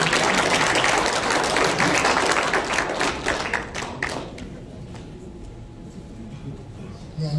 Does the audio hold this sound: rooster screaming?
no